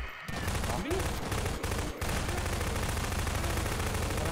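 Rapid gunfire from a shootout with a zombie in the Garry's Mod sewer level, a dense continuous volley of shots with a few brief gaps early on, loud and close throughout.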